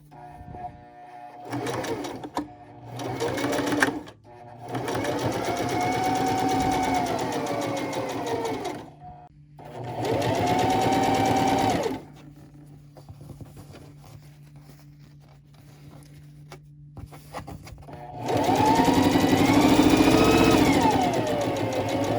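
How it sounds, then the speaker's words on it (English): A sewing machine stitches a reusable fabric gift bag with a drawstring channel, whirring steadily in three or four close bursts separated by short pauses, with no talking. "We're going to stitch up to this point, back tack, then we're going to leave that open and then stitch here"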